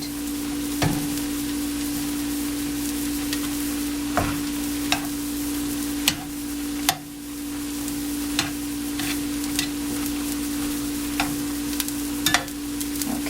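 Ground turkey and Italian sausage fry in a pan, a steady sizzle with occasional sharp clicks and scrapes of stirring, heard close with no talking.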